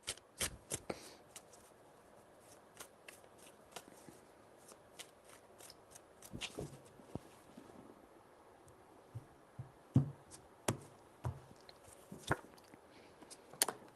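A deck of tarot cards shuffled by hand, with soft riffling crackles and sharp papery snaps recurring in short bursts, close and fairly quiet, without talk.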